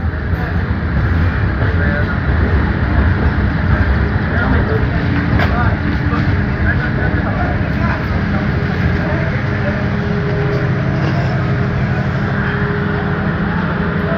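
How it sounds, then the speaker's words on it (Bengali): Padma Express intercity train rolling into Ibrahimabad railway station, a loud continuous rumble and clatter of carriages heard from on board, with a voice speaking over it. "মুহূর্তে ট্রেনটি প্রবেশ করলো ইব্রাহিমাবাদ রেলওয়ে স্টেশনে"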